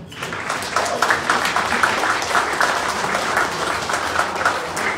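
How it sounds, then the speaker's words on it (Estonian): Loud, dense, continuous applause from an audience at an Estonian campaign support speech for a Riigikogu candidate, sustained evenly for five seconds. "Teeme selle eest suure aplausi."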